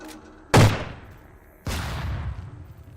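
Gunfire in the Lethal Tactics video game from gunmen and a shotgunner: two loud, sharp blasts about a second apart, each trailing off into a long echoing decay.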